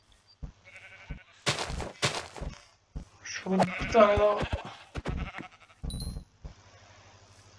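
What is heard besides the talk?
sheep bleating in the video game Minecraft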